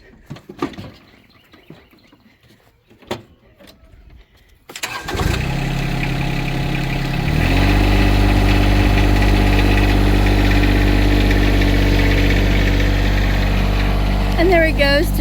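A tractor engine cranks and catches after a few quiet seconds, then settles into a loud, steady, close idle with a constant low rumble that continues to the end.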